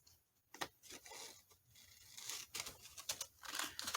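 Scissors cutting paper for a Halloween journal, heard as a few close, crisp snips and rustling crinkles in uneven bursts, quiet with no talking.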